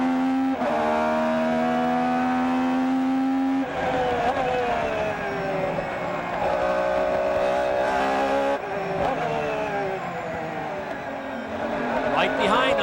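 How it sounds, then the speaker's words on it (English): A Porsche GT1 race car at the 1998 Petit Le Mans accelerates hard, its loud engine note climbing through gears, shifting, and climbing again, close and continuous with no talk. "Oh, look at the Porsche pull away under power."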